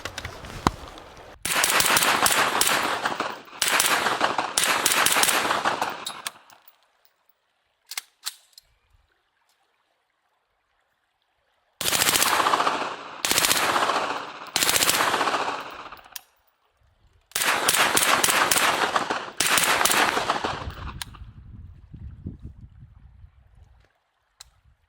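Civilian Vityaz and Saiga-9 firearms firing in rapid bursts, loud and close, three long strings of shots separated by pauses with a few isolated reports between.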